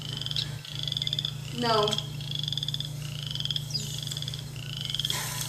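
Boreal chorus frogs give repeated rising, trilling croaks over a steady low hum, several calls close together, while young girls talk briefly and quietly under them.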